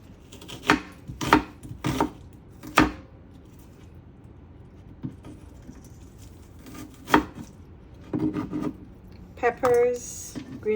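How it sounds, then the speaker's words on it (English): Knife chopping onions on a cutting board in a home kitchen while preparing chow mein: sharp, irregular thuds in short bursts, close and fairly loud, with someone talking between the cuts. "So I'm gonna be cutting up my onions,"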